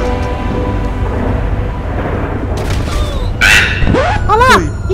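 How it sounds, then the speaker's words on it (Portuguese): A grenade explodes in GTA 5 as a short, heavy boom late on, with a second rumble after it, while excited voices talk loudly over the game sounds. "Eu tô doido pra jogar uma granada ali"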